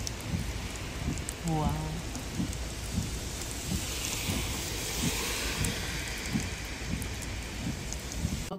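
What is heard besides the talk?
heavy rain at a harbour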